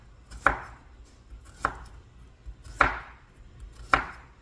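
A knife chops cucumber for a salad on a board: four crisp, evenly spaced thuds about a second apart, close and clear with no talking.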